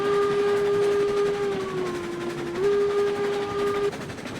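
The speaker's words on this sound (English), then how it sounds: "Victory whistle at the top of the hill." A steam locomotive whistle in the railroad game RailRoads Online blows one long, steady, loud tone that dips briefly in pitch midway, then cuts off, over low rumbling train noise.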